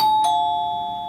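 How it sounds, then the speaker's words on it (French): A single electronic doorbell chime rings out clearly at a breakfast-time home entrance, two steady tones sounding and then sustaining as they slowly fade, with no talk over them. "la sonnette retentit."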